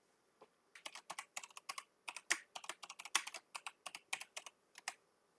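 Quiet, close keystrokes on a computer keyboard arrive in quick irregular bursts as an email address and password are entered, with no voice.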